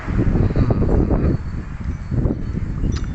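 Cold wind blows outdoors, gusting hard against the microphone as a loud, low rumbling buffet that rises and eases in waves.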